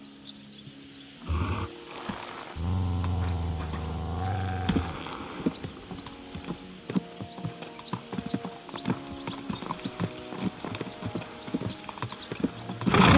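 Horse hooves clip-clopping at a steady riding pace in the video game Kingdom Come: Deliverance II, close and continuous with faint tack and ambient sounds.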